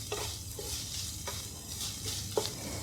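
Crushed carrots fry in a pan with a soft, steady sizzle, broken by a few light scrapes as they are stirred, close and quiet with no voices.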